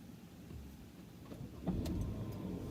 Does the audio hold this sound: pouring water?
no